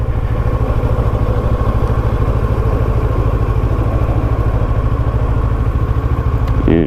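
A motorcycle ridden on a wet day gives a close, throbbing engine note with an even, rapid pulse that runs unbroken to the end.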